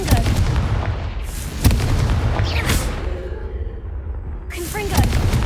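Confringo fire spells in Hogwarts Legacy crack out as several loud, close blasts over constant battle din, with sharp bangs near the start and middle and a whooshing burst near the end.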